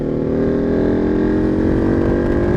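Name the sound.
Ducati 1299 Superleggera motorcycle engine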